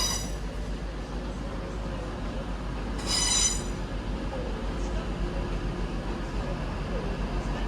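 Class 185 trains at Manchester Piccadilly station, terminating in from Hull, rumble steadily through the platform with a brief high squeal of wheels on rails midway.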